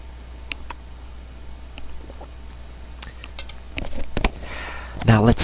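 A metal spoon clinks and scrapes against a bowl of soup in a few light, close ticks, followed by a louder clatter of handling at the end, with no talk.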